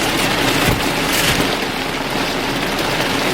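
Heavy storm rain pours outside as a dense, steady hiss that fills the whole clip, loud and close with no voices.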